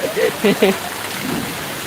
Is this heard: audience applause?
no